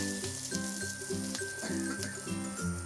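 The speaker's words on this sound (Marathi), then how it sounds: "थोडंसं तेल टाकीस ना आपण मिरच्या थोडंशा अजून भुजी घेऊ" Green chillies roasting in a little oil on a pan give off a faint, steady sizzle, with soft rhythmic stirring knocks repeating underneath throughout.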